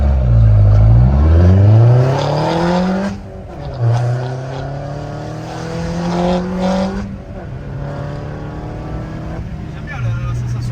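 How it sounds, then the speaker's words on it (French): A Peugeot 208 GTI with a manual gearbox gets short throttle blips, its engine note climbing and falling in a loud rev, then settling into a steadier drone with further small rises, heard close from inside the car. "Pour donner les petits coups d'accel."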